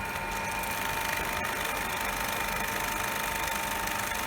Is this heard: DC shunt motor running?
yes